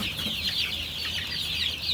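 Chickens on a farm, a mixed local breed flock including hens, clucking in a steady, close chorus that runs through the whole stretch with no one talking.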